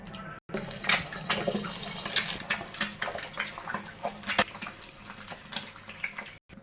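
Four eggs dropped into hot oil in a pan for egg fried rice sizzle with a steady, close crackle, broken by sharp pops and spits. No voices are heard.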